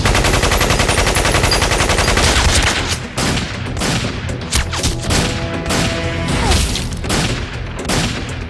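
Intense gunfire in a Metal Gear Solid: The Twin Snakes cutscene, loud rapid machine-gun bursts at first, then scattered shots and impacts with echoing clanks.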